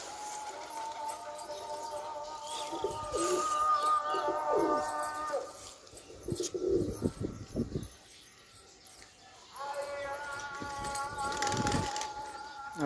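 Madrasi pigeons coo in a home loft, soft repeated throaty calls close by, mixed with other bird chirps and background rustling, with no talking.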